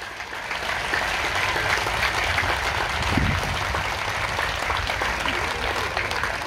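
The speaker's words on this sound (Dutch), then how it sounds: "Ik wil jullie eerst vragen om nog een applaus voor Claudia." Outdoor crowd applause for Claudia at a Black Lives Matter demonstration in Leiden, sustained and fairly loud, a dense continuous clapping with a brief swell midway and voices mixed faintly underneath.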